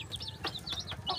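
Native chickens clucking on a farm, several short sharp clucks in quick succession, fairly close but soft, with no talk over them.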